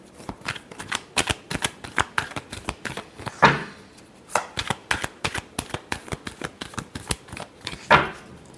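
Tarot cards are shuffled by hand in quick repeated riffles, crisp close flutters with brief pauses and two longer bridging cascades, no voice.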